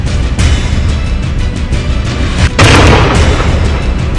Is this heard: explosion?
yes